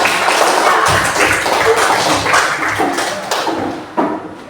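Applause from a classroom of students for a presentation group, a dense burst of many hands clapping that continues steadily and fades toward the end.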